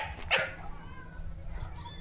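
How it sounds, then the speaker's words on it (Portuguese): A single short dog bark, fairly faint and distant, over a low background hum. "Se vocês escutarem um latido"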